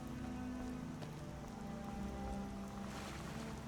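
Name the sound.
rain in Skyrim video game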